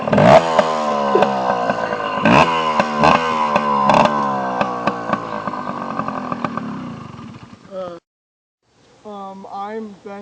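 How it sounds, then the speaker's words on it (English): A 1987 Kawasaki KE80 two-stroke dirt bike revs close by in repeated sharp throttle blips that climb and fall, with a buzzy, raspy tone, before cutting out; a person talks briefly near the end. "And this is my KE80, 1987 classic, expert. Let me hear it."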